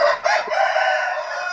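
A Bangkok fighting rooster crows once, close and loud, in a single drawn-out call with a short break near the start.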